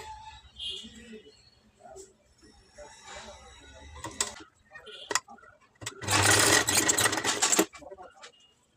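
A sewing machine stitches piping onto a blouse in one loud, close burst of rapid whirring, preceded by quiet handling sounds and a few clicks while a person talks.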